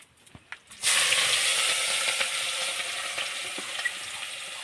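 Mustard seeds and cumin hit hot oil for tempering, a sudden loud hiss that starts after a few quiet knocks and keeps sizzling steadily with faint pops and crackles.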